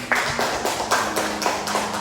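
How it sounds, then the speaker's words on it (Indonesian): Students in a classroom clap together in a rhythmic, evenly paced pattern, with each beat landing about every quarter second in a steady, moderately loud stream. "Bagus sekali, tepuk tangan"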